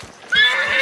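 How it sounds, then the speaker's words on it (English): A horse neighing in the video game Hunt: Showdown, a single shrill whinny that rises sharply and trails off over under a second, fairly loud with faint background ambience. "Not an angry horse. It's a horse."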